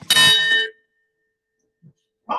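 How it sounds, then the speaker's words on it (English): A meeting bell struck once with a bright, loud metallic clang that rings briefly and cuts off, followed by quiet and a couple of faint small knocks. "Ring the bell again."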